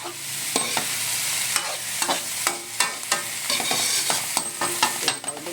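Three large bitter gourds stir-fry in a pan with a constant bright sizzle, broken by repeated sharp scrapes and clacks of a utensil stirring.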